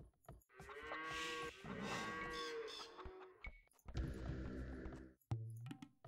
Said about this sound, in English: Oh, and where'd those goats come from?